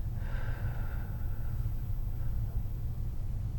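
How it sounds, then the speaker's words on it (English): Slow, deep breath during a chair-assisted pelvic floor exercise, one long airy inhale or exhale close to the ear over a steady low background rumble. "Let's do a few more breaths here."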